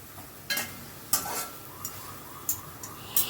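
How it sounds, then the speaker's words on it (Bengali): Onions being stirred as they fry lightly in a pan: a handful of separate scraping strokes at irregular intervals over a faint, soft sizzle, with no voices. "দেখুন অনবরত কিন্তু নাড়তে হবে"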